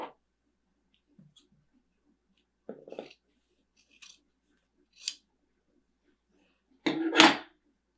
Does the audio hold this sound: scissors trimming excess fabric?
yes